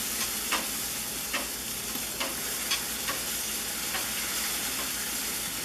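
A whisk stirs grain through the mash in a Grainfather brewing system, giving repeated scraping strokes about once a second over a steady hiss of running equipment, close and fairly quiet, with no voices.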